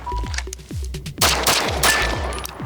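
Rapid pistol shots ring out at a shooting range during target practice, about a dozen sharp cracks in quick bursts with short pauses between strings. They are loud and close, with nobody speaking.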